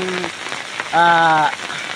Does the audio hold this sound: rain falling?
yes